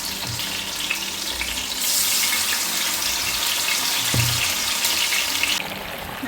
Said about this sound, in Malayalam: നമ്മളിപ്പോൾ മീൻ ഫ്രൈ ചെയ്യാനിട്ടിട്ടുണ്ട്.